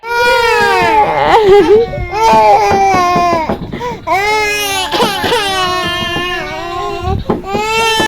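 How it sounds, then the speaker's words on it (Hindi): A baby wails loudly and continuously, breaking into sobbing cries with short catches of breath between them, close and unaccompanied. "बच्चे की रोने की आवाज"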